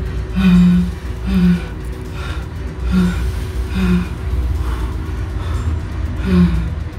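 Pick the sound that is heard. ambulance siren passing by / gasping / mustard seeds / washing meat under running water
gasping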